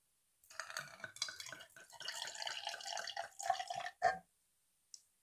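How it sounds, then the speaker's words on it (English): About 50 millilitres of water is poured into an empty bottle, a quiet, close trickle with small splashes lasting a few seconds, ending in a last drip and a faint tap. "I'm going to add 50 millilitres of water from here to here"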